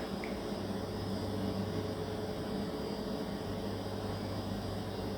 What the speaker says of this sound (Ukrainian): Дуже голосно, дуже багато шахедів.